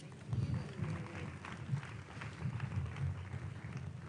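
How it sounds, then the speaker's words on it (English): A seated audience applauds after a speech at a World Oral Health Day event, a dense spread of clapping that swells and holds at moderate volume, with faint murmuring underneath. "A round of applause for Theresa Opong Mensah, Chef Director, Ghana Education Service."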